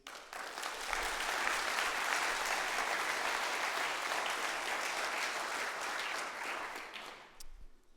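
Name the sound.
conference audience applauding sponsors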